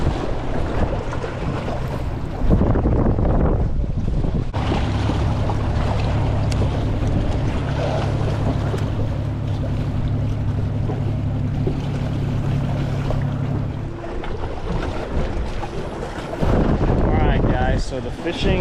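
Strong wind buffets the microphone on a fishing jetty, a constant roaring rush with gusty swells and a steady low tone running through the middle, heard without talk.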